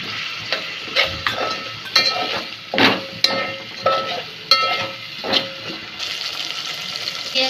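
Onions frying in a pan with salt as tomato is added, soft sizzling under intermittent stirring and scraping clatter, close and moderately quiet, no talk.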